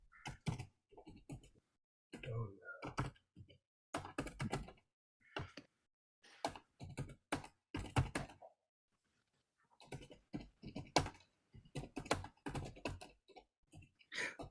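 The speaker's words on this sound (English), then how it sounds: "you have a very pensive, scholarly look on your face, Jan, as you're typing" Fingers tap on a computer keyboard in irregular bursts of quick clicks separated by short pauses, close but quiet, with no voices.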